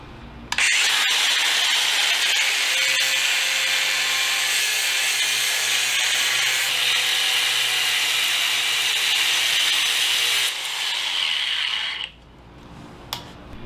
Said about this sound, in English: cut off small pieces at a time and go around, and then whatever's left over, grind it down